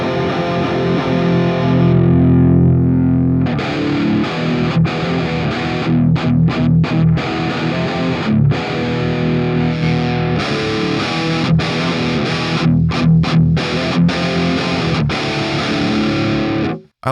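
Heavily distorted electric guitar through a ToneLib Metal 1960A cabinet simulation with a center-positioned 57 mic, loud chugging riffs and ringing chords that start after a brief sustained note and continue with sharp palm-muted stops.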